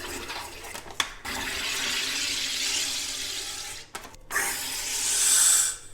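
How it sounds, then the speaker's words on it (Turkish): A home soda maker forces gas into a bottle of orange juice in loud hissing, rushing bursts, separated by brief pauses and clunks, with the final burst rising to a bright, sharp hiss. "Şişeye cihazı taktım ve şimdi gazını ekliyorum."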